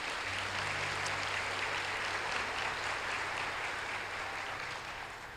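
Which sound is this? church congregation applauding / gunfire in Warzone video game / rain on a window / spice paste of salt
church congregation applauding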